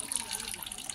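Water runs steadily from a household tap into a tub or sink during clothes washing, a continuous hissing gush at moderate level with no clear break.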